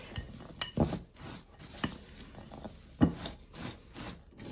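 Almonds tumble and scrape against a bowl as they are stirred and coated with cinnamon sugar, irregular rattling strokes with a few louder knocks, close and unaccompanied by speech.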